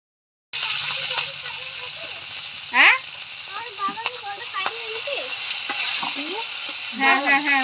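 Steamed, drained pond snails go into a hot pan for a sour snail dish, producing a loud continuous frying hiss with stirring scrapes while people talk over it and a whistle-like tone rises briefly.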